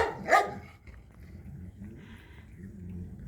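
A single sharp dog bark rings out up close near the start, followed by quieter shuffling and low background noise.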